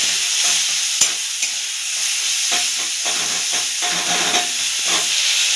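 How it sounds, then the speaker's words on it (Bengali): Chopped onions sizzle with salt in a hot pan of oil, a steady close frying hiss with occasional stirring scrapes and bursts of spatter, no voices. "পেঁয়াজটা একটু নুন দিয়ে ভাজা ভাজা করলাম"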